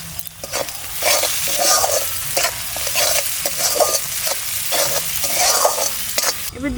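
Cumin, coriander and other spices are stirred in a sizzling pan for jackfruit prawn curry, with loud rhythmic scraping strokes repeating over a steady frying hiss, close up.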